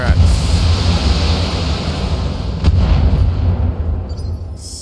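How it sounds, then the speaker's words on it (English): Mech weapons fire in the BattleTech video game, a dense rolling barrage of booming artillery-like blasts and bursts, steady and loud throughout with one sharper crack partway through. "Just go ahead and open fire"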